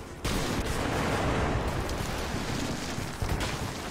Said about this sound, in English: he threw a grenade at me.